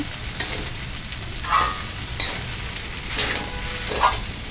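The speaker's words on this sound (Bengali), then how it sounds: "এখন সব কিছু ভালোভাবে নেড়ে চেড়ে মিশিয়ে নিচ্ছি।" Rice noodles tossed with fried eggs in a pan over high heat: continuous loud sizzling broken by repeated scraping stirs roughly once a second.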